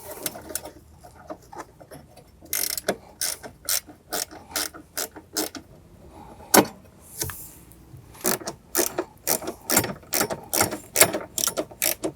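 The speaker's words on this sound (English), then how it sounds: "using our ratchet" A ratchet clicks as it backs out 7mm screws from a metal bracket behind a Jeep Wrangler JK dashboard, sharp rapid clicking in repeated bursts with short pauses, close and alone.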